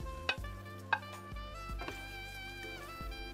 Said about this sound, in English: Then you add your tofu back in.